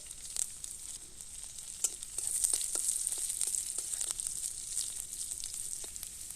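Whole cumin, chopped ginger and green chili frying in hot mustard oil in a wok, a steady bright sizzle with scattered crackles and pops, close and continuous, with no talk.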